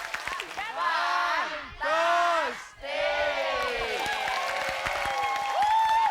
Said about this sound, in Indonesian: Oke, ada Adit, tepuk tangan dulu